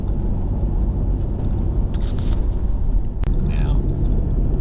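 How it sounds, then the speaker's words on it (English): A vehicle driving at about 70 to 75 km/h along an outback dirt track on the Strzelecki route, heard from inside as a loud, steady rumble with road noise and a few brief rattles. "I actually prefer driving on this than the stony gravel."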